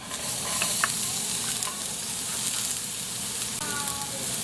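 Garlic and onion sauté in a pan with ginger as the base for fish sinigang, a loud, dense, steady hiss of frying with a few light clinks of stirring, close up and uninterrupted.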